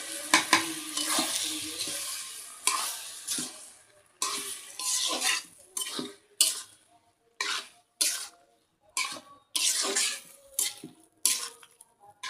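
Dried shrimp curry with potato, eggplant and other vegetables being stirred and fried in a pan, with bursts of sizzling and scraping that stop and start in irregular strokes, separated by quiet pauses.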